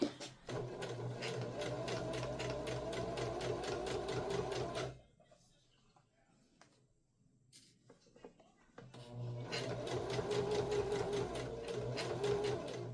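A sewing machine stitches a bag in fast, steady rhythmic bursts, loud and close, stopping for a few quiet seconds midway before starting up again.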